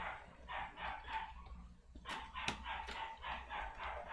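A noisy dog at home barks repeatedly in a steady series of fairly loud yaps, with a brief pause partway through before the barking resumes, and no talking.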